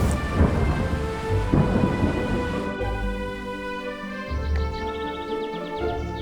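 Heavy rain pours down steadily with deep thunder rumbling through it, loudest early on and easing to a softer roll near the end, with no voices.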